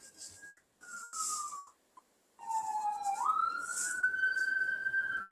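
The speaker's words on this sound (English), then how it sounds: "Goes the ambulance." An ambulance siren wails at a distance, its pitch sliding and holding in drawn-out tones with brief gaps, alone and moderately loud.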